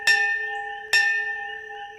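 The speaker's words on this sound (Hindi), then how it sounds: "अचानक मंदिर की घंटी अपने आप बजने लगी।" A temple bell is struck twice about a second apart, each strike ringing out clear and bright before fading into a long, steady hum.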